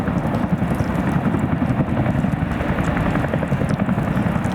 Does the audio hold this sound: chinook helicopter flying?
yes